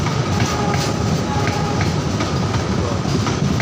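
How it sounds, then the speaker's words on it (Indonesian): Tegal Bahari passenger train from Pasar Senen to Tegal, fourteen carriages long, passing through Jatinegara station: a loud, close, continuous rumble with rapid wheel clatter and a faint squeal over a steady roar. "Kereta api Tegal Bahari Pasar Senen ke Tegal, rangkaiannya terpanjang sedunia mencapai"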